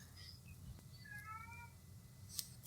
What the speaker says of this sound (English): That literally sounded like a cat.